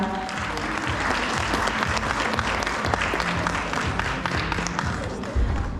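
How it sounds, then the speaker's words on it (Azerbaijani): A large audience at an awards ceremony for e-commerce businesses claps steadily and loudly throughout, a dense, sustained wall of applause with a few scattered voices mixed in. "İlk öncə istəyirəm ki, özümüzü yaxşı-yaxşı alqışlayaq."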